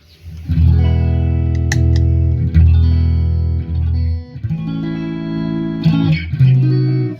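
Loud, bright processed music with dense sustained tones, crisp boosted highs and heavy low end, playing continuously with brief dips.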